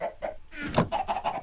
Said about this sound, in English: It is filled with chickens.